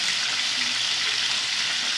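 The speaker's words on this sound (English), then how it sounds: "So we have to fry our fish," Fish frying in a pan gives off a steady, even sizzle that holds at a constant level throughout, with no voices over it.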